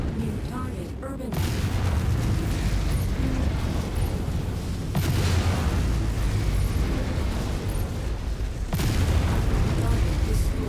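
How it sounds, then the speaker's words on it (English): Heavy explosions destroy a bridge in the MechWarrior 5 video game, with deep booming blasts landing at intervals over a continuous rumbling battle din, each burst loud and broad. "I just destroyed the bridge by the accident"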